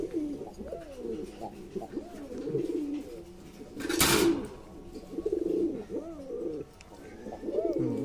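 Several pigeons in a loft coo in repeated rolling phrases, close and continuous, with a brief sharp clatter in the middle.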